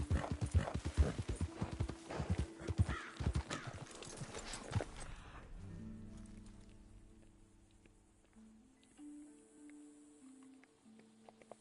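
Horse hooves clip-clop steadily in Red Dead Redemption 2, a close, brisk rhythm of hoofbeats for about five seconds that then stops, leaving quiet game ambience and soft tonal music.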